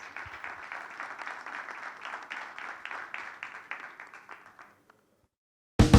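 An audience at an agricultural talk applauds the speakers, a moderate crowd clapping that gradually thins and fades out, followed by silence and then a brief loud burst of another sound at the very end.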